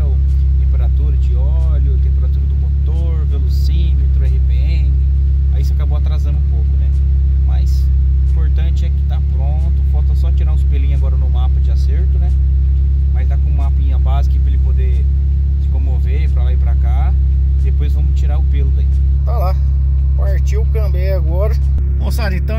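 Turbocharged Volkswagen Gol engine idling after fuel injection work, a loud steady low rumble throughout, with people talking over it close by.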